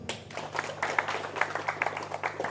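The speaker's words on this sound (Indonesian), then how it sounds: "Tepuk tangan dulu." A seated audience at a religious gathering gives a short round of clapping, fairly close and moderately loud, with uneven claps over a low steady hum.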